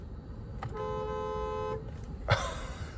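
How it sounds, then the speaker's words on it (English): A 2020 Bentley Mulsanne Speed's horn sounds one steady, loud honk lasting about a second, followed by a short thump against quiet background noise. "That is some horn sound."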